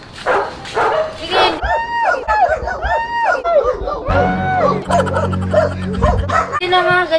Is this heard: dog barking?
yes